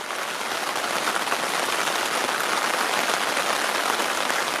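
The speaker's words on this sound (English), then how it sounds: "You see the rain" Steady, dense rain pouring down, a continuous broadband hiss that stays even and close throughout with no voices.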